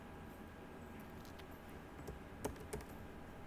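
A computer mouse gives two faint, quick clicks late on, set over a low, steady room hum with no voices.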